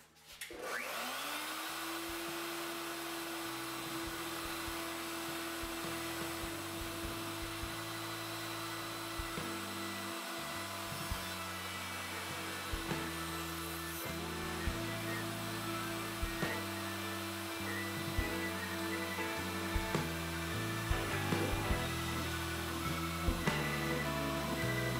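A router with a bearing guide whines steadily at close range for the whole stretch, its motor pitch wavering slightly as it trims along a wooden table leg.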